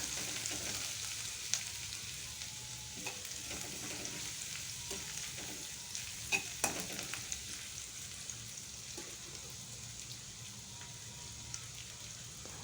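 Split green chillies sizzle and fry in oil in a pan while semolina upma is being made, a steady soft crackle with a few sharper pops and occasional stirring scrapes, no voices.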